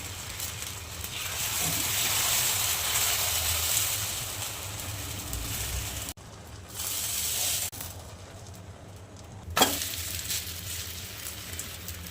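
Rava and poha amboli batter fries in oil on a pan, giving a steady, soft hiss and sizzle that dips and then picks up again.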